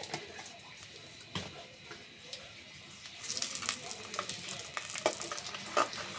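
Cloves, cardamom, bay leaves and other whole spices crackle and sizzle in hot oil in a pot, a soft steady fry with sharper pops and spatters growing busier partway through.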